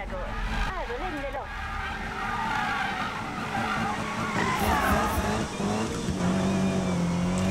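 A car drifts through a checkpoint route in Need for Speed (2015), its tires screeching in long continuous wails over a steady engine roar, loud and close throughout.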